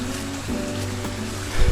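Steady rushing water from a stream where two streams meet near an abandoned stretch of the Erie Canal, a broad continuous wash close by with no voices.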